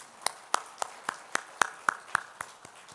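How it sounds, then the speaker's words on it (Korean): Church congregation clapping in unison: about ten sharp, steady, evenly paced claps, moderately quiet against the room's faint background. "우리 그 하나님께 다시 한번 우리 영광의 박수 한번 올려드릴까요?"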